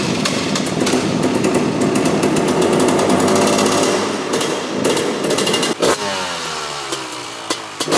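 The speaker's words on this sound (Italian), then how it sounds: "stanno per accendere una moto" An enduro motorcycle engine is started and revved hard, a loud rattling two-stroke-like roar with a brief drop and restart, then settling into an uneven idle with sharp blips, close by.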